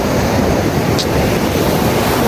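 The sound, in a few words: sea waves at the beach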